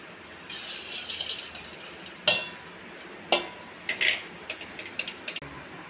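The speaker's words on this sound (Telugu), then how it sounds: "ఈ మిల్లెట్స్ అన్నీ గిన్నెలో వేసేయాలి." Millets tipped from a container into a cooking pot make a soft grainy rush, then a scatter of sharp clinks and taps from the pot and utensils, close and fairly quiet, with no talk.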